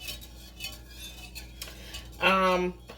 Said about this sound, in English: I'm gonna keep whisking it though, because you don't want it really boiling.